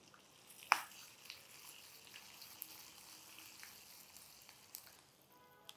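Turmeric sizzling as it is tempered in hot oil, a faint, steady crackle with a sharp pop near the start and a few softer spits later.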